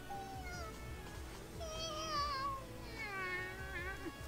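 A person imitates a small cat with a voice, making several high, wavering meow-like calls in a row, fairly close and clear. No words are spoken over them.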